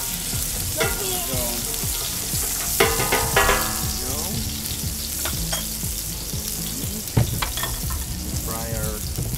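Shrimp frying in a paella pan over an open wood fire outdoors, a steady loud sizzle with clattering utensil strikes and scraping bursts throughout, alone without talk.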